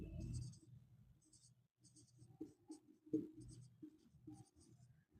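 Pen or pencil writing out a Class 9 maths solution on paper, with soft scratchy strokes in short bursts and pauses, recorded close and quiet, with some faint background murmur.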